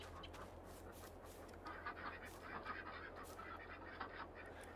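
Flock of female ducks in the Farming Simulator 22 video game giving faint, scattered quacks over a low, steady game ambience.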